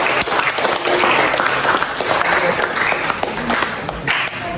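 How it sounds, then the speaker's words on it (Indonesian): Dense, steady applause from an audience after a group presentation in a classroom, many hands clapping together at close range for the full length without a pause. "Oke, aplaus dulu untuk kita semua."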